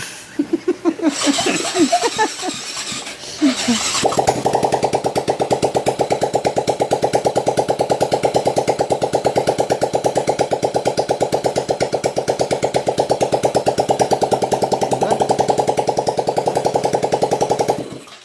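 Voices and laughter, then a Yamaha Mio scooter engine with a compression fault kicks into life and runs at a steady, loud, rapid putter until the end.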